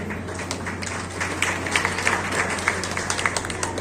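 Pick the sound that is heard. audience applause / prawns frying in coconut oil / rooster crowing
audience applause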